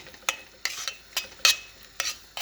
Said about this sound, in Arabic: هاي تتقلى، خليها تتقلى على نار